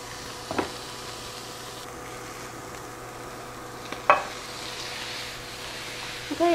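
Ground beef hitting a hot pan that already holds onions, with a sizzle and a couple of scraping stirs over a steady frying hiss, close up.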